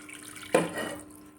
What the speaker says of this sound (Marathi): आपल्याला हवं तेवढं पाणी टाकायचं आहे